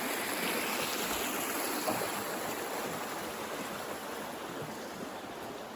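Clear spring-fed stream water flowing steadily in the outdoors near Loški Potok, Slovenia, a continuous close rushing and burbling that holds even throughout with no voices.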